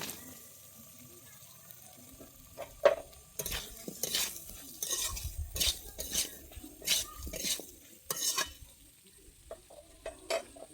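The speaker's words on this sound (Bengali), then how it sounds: "আমি এবার দিয়ে দিচ্ছি ভেজে রাখা কুমড়ো আর আলুটা" Fried pumpkin and potato pieces tipped into a pan for a fish-head pumpkin curry and stirred, giving scattered scraping clatters and soft sizzling with a few sharper utensil knocks against the pan.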